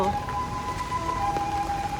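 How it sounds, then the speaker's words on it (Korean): An ambulance siren holds a steady wailing tone as it passes through heavy typhoon rain in Shanghai's Korea Town night market area, the siren sitting clearly over a constant hiss of rainfall. "어? 왜 구급차가 지나가지?"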